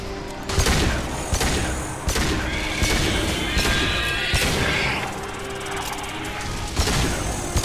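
Pistol shots loaded with disruption ammo in Mass Effect 2, firing as a string of sharp, loud cracks at irregular intervals over busy game combat noise, with a few heavier impacts mixed in.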